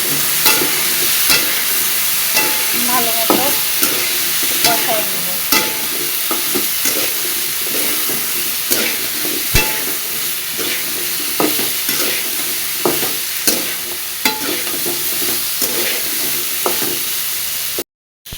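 Steady, loud sizzling of spices frying in a pan, with repeated scraping and clinks of a spatula stirring throughout.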